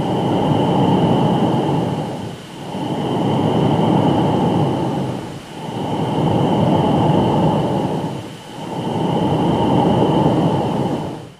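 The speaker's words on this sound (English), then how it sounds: "That's how lightning on the surface of Jupiter sounds." Radio recording of lightning on Jupiter, converted to sound: a loud, steady roaring hiss with a constant high tone running through it, swelling in long waves about every three seconds, with no voices.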